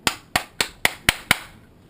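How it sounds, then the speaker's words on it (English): A takedown pin is tapped into a rifle receiver in six sharp, close metallic knocks spaced about a quarter second apart, each decaying quickly, with quiet afterward and no talking. "Push your pin through from this side. This one needs a little help getting in."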